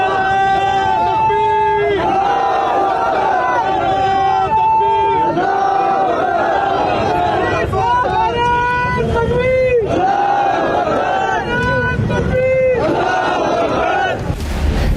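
A large protest crowd chants slogans against France in rhythmic, repeated call-and-response phrases, loud and close, with many voices blending into a continuous roar of shouting throughout.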